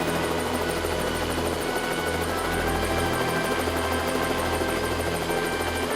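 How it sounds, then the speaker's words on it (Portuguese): A helicopter's steady rotor thrum and engine drone, loud and continuous with a rapid beating chop, and no voices, over Rio de Janeiro. "A empresa precisou alugar helicópteros"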